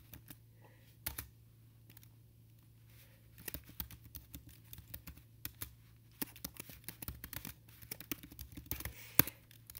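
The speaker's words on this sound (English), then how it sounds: "And then I'm going to type in my class name." Typing on a computer keyboard, quiet irregular clicks in scattered bursts with a low steady hum underneath and no speech.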